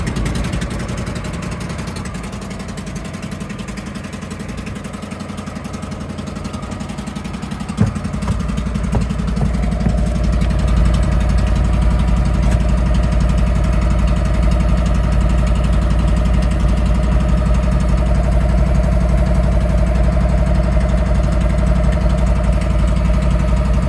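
Argo 750 HDI amphibious vehicle after a fuel pump replacement: a quieter hum gives way to a sharp click as the engine catches, then a steady, loud idle continues close by.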